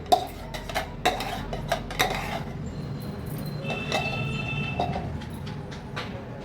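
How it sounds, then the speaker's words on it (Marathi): Semolina batter is stirred in a bowl with a utensil, giving a string of sharp clinks and taps against the bowl in the first two seconds. Softer scraping and faint background noise follow, with no talking. "व्यवस्थित मिक्स करून घ्यायचे।"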